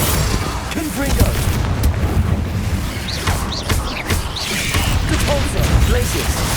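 Confringo fire spell blasts in Hogwarts Legacy gameplay, a run of booming bursts and crackles layered over dense continuous battle noise and a low rumbling music bed, loud and busy throughout with shorter whooshes scattered in.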